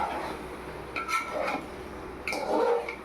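A lid goes onto a pot of mutton curry, giving a couple of short metallic clinks and scrapes of cookware, close and moderately loud against a quiet kitchen background.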